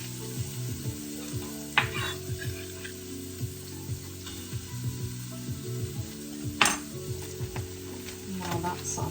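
Olive oil and butter sizzle steadily in a pan during sautéing, with a few brief clinks of a utensil against the pan. A faint background hum runs under the sizzle.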